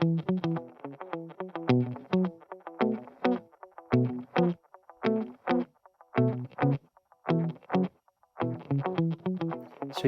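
An electric guitar played through a Dubstation delay effect on iOS sounds in short strummed and plucked phrases separated by brief gaps, with repeats trailing each note, close and clear with no talking.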